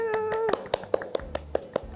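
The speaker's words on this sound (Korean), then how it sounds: "박수!" A handful of spaced hand claps welcoming a guest in a studio talk show, sharp and close, following a brief tone at the start.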